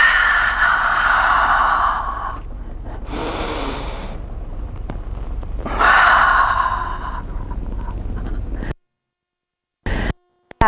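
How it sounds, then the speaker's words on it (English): Deep, audible breaths during a Pilates jackknife on a reformer: a long exhale, a sharp inhale, then another long exhale, close and loud, ending in near silence with a brief final breath. "This time I'm just going to breathe."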